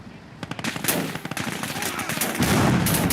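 Dense machine-gun and rifle fire rattles around a combat engineer repairing a tank in battle, with rapid overlapping bursts and single loud cracks, growing into a heavier sustained barrage near the end.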